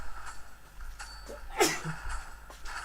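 A single sharp sneeze bursts out about midway through the clip, close to the microphone, while faint background game sounds from a Mobile Legends esports broadcast continue underneath.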